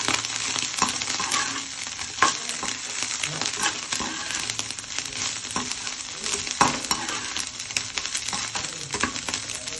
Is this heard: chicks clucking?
no